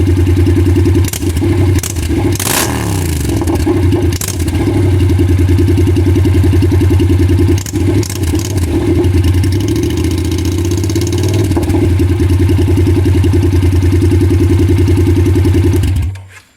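Honda CTX700N motorcycle exhaust idling loudly and steadily up close, with a few quick throttle blips early on that briefly rise in pitch, before the engine cuts off at the end.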